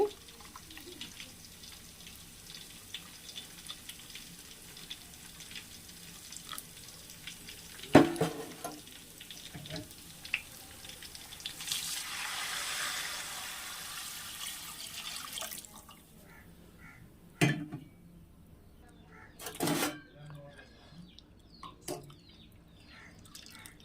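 Coconut milk poured into a pot of rice for coconut rice, a soft steady liquid pour and trickle that rises and swells midway, then gives way to a few distinct clanks and drips near the end.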